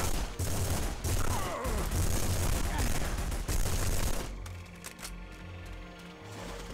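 Rapid, dense bursts of gunfire in The Punisher video game, loud and continuous for several seconds before giving way to quieter game ambience, with some talking mixed in.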